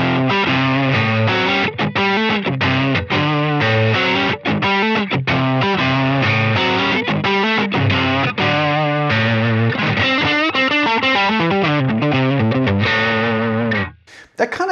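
An electric guitar plays a driven, overdriven lead through a Line 6 Helix dirt tone, loud and continuous with sustained notes and chords before cutting off near the end.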